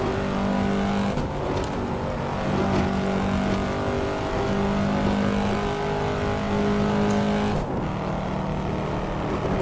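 In the Assetto Corsa racing game, a Corvette C7 Stingray's engine drones loudly and steadily under load in a long fifth gear climbing a hill, with brief dips as it shifts, and no one speaks.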